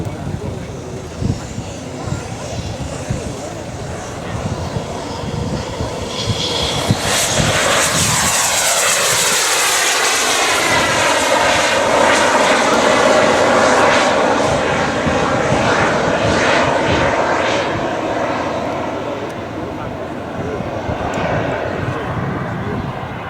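A Vickers VC-10 jet flies past at an air show, its loud engine roar building into a long sweeping pass with a falling, Doppler-shifted whine before settling into a steady rumble, while a commentator speaks over the noise.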